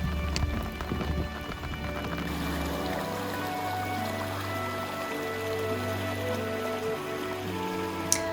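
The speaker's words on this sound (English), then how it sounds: "The rain suddenly has become so strong, but we are a lucky couple, because we have found a small shelter." Heavy rain falling outdoors in the countryside, heard from beneath a small shelter as a steady, even patter and hiss, fairly quiet and continuous with no talking.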